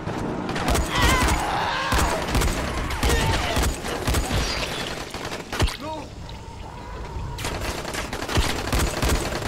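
Rapid video game gunfire rattles in dense, loud volleys with sharp individual shots, and a voice talks over it.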